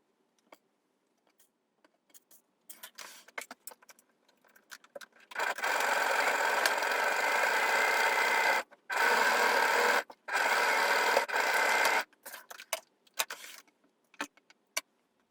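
A sewing machine stitches an easing line around the head of a blouse sleeve, running in three steady bursts of several seconds each, with short pauses and scattered clicks and handling noises before and after.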